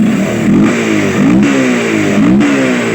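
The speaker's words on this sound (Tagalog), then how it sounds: "kahit wala tong kapasitor na to, matino pa rin yung andar ng motor mo" A Kawasaki motorcycle engine runs without its regulator capacitor, close and loud, revving up three times in an even rhythm over a steady idle.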